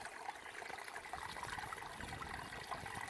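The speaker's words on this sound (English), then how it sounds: "There's some water trickling here" Water trickles continuously in a small spring stream running through fields in Congomah village, Mauritius: a soft, even, bubbling flow with no voices.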